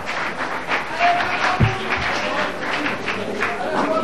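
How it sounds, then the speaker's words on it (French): Audience applause for players at a quiz tournament's grand final, steady clapping from a crowd mixed with a murmur of voices, fairly close and sustained throughout. "On applaudit Pape Djibi et Cher."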